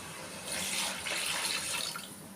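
Water poured from a vessel into a pot of cooking prawn biryani, a short, close splashing stream lasting under two seconds, alone.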